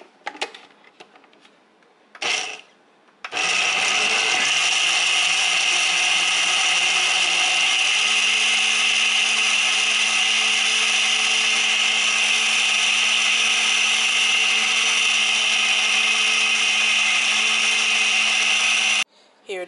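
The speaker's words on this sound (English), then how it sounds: "Here the juice has already been blended" A countertop blender whirs steadily as it purees watermelon into juice, a loud sustained motor drone running about fifteen seconds after a couple of short pulses, then cutting off abruptly.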